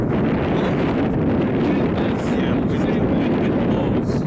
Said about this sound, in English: Wind blows.